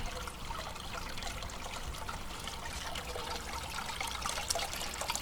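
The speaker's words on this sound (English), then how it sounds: "this valve controls the water flow" Water runs steadily through a Sluice Goose GOLDROP gold trap as a valve controls the flow, making a continuous close trickling, gurgling wash with no break.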